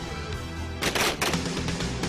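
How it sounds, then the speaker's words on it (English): Firearms crack in quick, short bursts during commando close-quarter combat training, a cluster of sharp loud reports after a brief quiet lead-in. "optimize the use of their firearms by combining agile, physical maneuvers with quick, short fire bursts."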